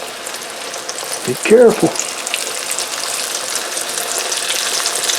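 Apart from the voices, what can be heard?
fish frying in hot oil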